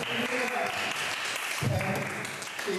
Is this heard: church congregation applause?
yes